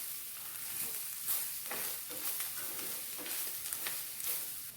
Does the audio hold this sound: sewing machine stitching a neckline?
no